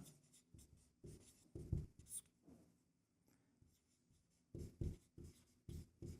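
A pen scratches out a maths solution for a statistics problem on paper, with close strokes coming in uneven bursts separated by brief pauses and faint room noise underneath.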